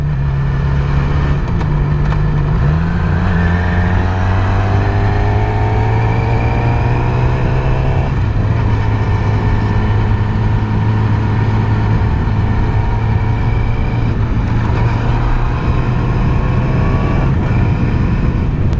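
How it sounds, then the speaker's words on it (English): A Yamaha YZF R6 sport motorcycle with its stock, quiet exhaust hums loudly and steadily while riding, the engine note rising and dropping through a few gear changes with no talk. "So what I can hear is only the engine noise,"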